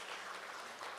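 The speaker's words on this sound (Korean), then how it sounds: "박수로 환영해 주시면 감사하겠습니다." During a Sunday church service, a congregation applauds to welcome a visiting missionary: a brief, fairly soft wash of many hands clapping together, with no speech on top.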